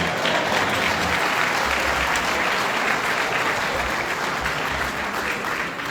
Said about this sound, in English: We're just gonna clap for everybody that's on the screen right now.